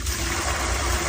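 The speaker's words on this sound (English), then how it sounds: "Now I am standing here so I can pour the water on this side" Water pours out in a steady gushing stream as part of a hurricane-eye science project, a close, continuous splashing rush.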